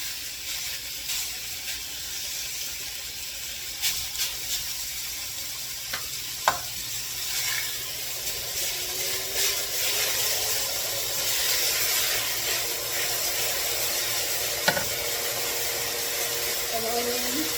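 Ground beef sizzles steadily in a pan while a utensil stirs and scrapes through it, a constant close hiss with occasional knocks and clinks, no talking.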